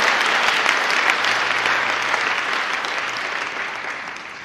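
A church congregation applauds in a dense, sustained wash of clapping that fades slightly toward the end, with no speech on top.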